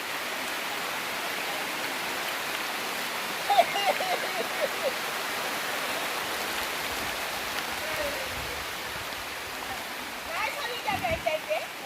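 Heavy rain pours steadily as a dense broadband hiss throughout, with brief voices and some louder splashes near the middle and end.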